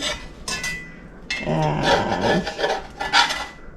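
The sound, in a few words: cutting German pancakes in the pan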